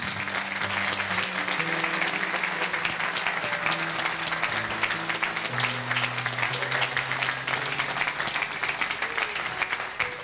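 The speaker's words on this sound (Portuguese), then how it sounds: "Vamos dar para Jesus, meus amados, uma linda salva de palmas, porque Ele merece." Church congregation claps warmly and continuously in praise of Jesus, sustained applause filling the room over a backing of sustained musical notes from keyboard or band.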